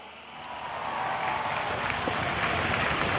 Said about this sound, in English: can I hear a huge round of applause?